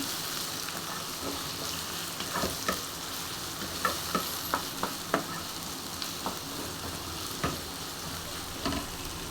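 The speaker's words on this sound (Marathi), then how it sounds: "आता मी ह्याच्यावर टोमॅटो टाकून घेते व्यवस्थित त्यालाही भाजून घेते मी" Tomatoes frying in a pan with cluster beans for a village-style bhaji, a soft steady sizzle with scattered sharp clicks and taps of a spoon stirring against the pan.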